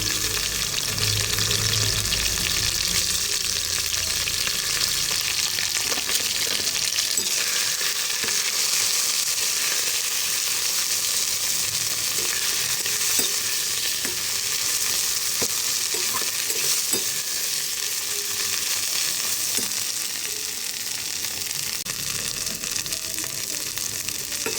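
Ghetkul leaves frying in oil in a wok give a loud, continuous close sizzle, with occasional stirring scrapes throughout, and no voices.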